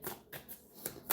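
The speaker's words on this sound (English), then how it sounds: "When I was shuffling the deck, I got the 6 of Swords to the Lovers." Tarot deck being shuffled by hand during a card reading, a few soft papery riffles and flicks in quick bursts, close and fairly quiet with no talking.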